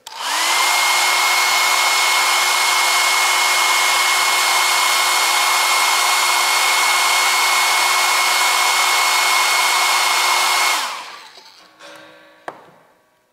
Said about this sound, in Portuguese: vai ter um ruído agora, vocês escutem esse ruído, é o secador de cabelo produzindo a secagem da peça